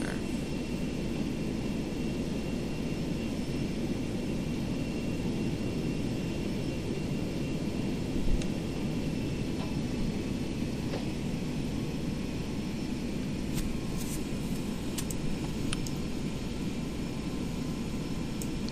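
A simulated airliner, a Boeing 727 in a flight simulator game, taxiing at night, with a steady broadband jet engine roar and hiss that holds constant throughout, a few faint clicks over the top.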